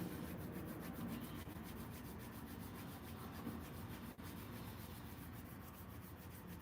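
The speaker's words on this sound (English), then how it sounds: "rub your hands together." Two hands rubbed briskly together to warm up before tai chi practice, a soft continuous dry swishing friction heard close and alone, steady throughout.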